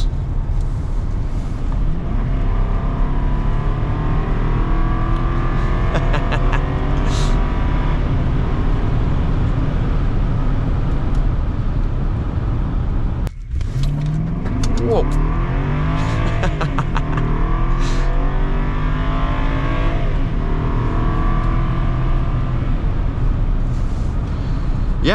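A turbocharged BMW 750Li engine roars and climbs through the revs under hard acceleration, building boost, with a brief drop as it shifts, then pulls hard again.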